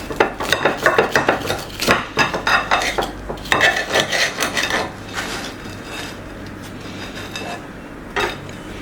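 A knife cuts through a noisetine cake into pieces, giving a run of close scraping and tapping strokes against the plate, then a quieter stretch with one last scrape.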